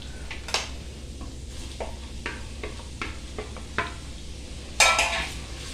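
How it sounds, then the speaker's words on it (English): Onions frying in about 2.5 tablespoons of hot cooking oil for a mutton curry, a steady close sizzle broken by scattered stirring scrapes and clinks, with a sharper, louder burst of spitting near the end. "now I'm going to put in the onions now that the oil is hot"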